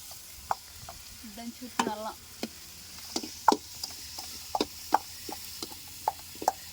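Tomatoes frying and being stirred in a pan for a village-style malugu fish curry, with a low sizzle under repeated scraping and tapping stirs, close by and fairly quiet, no voices.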